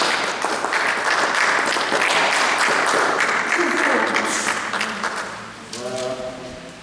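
Church congregation applauding the Lord: sustained, dense clapping from a crowd filling the room, fading near the end as a voice rises.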